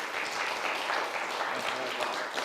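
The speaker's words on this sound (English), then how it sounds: "We'd like to thank them and give them a round of applause." Conference audience applauding a panel at an educators' learning event in Alaska, a dense, continuous wash of many hands clapping at steady volume throughout, with some voices mixed in.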